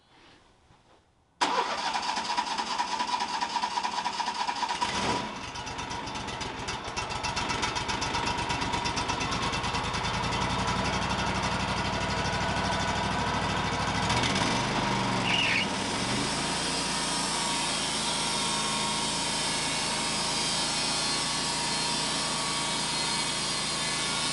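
A sawmill engine cranks and tries to start while milling cedar fencing, a loud continuous mechanical roar from close by that runs almost the whole time, shifting in tone partway through, with no talking.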